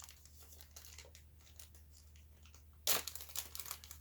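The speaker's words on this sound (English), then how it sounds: "rip this open." Plastic packaging for a new Dirt Devil/Fantom Fury vacuum belt crinkles softly, then rips open in one sharp, close tearing burst followed by rustling.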